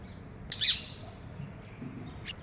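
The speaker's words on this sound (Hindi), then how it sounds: "तोते की आवाज़ है, टें टें टें टें।" A parrot gives one sharp, loud squawk near the start, then a fainter call a moment later, against a quiet background.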